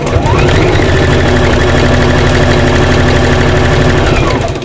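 A sewing machine runs loud and close in one continuous burst of rapid, even needle clatter for a few seconds while back-stitching a seam on appliqué bunting, then winds down at the end.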